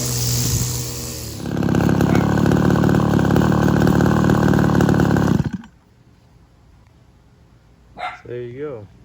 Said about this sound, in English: I'll do a little bit of trimming over there where there is some greenness left in the lawn